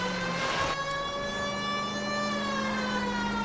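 Police siren wailing during a car chase in a video game, a steady continuous tone over faint traffic noise, close and sustained.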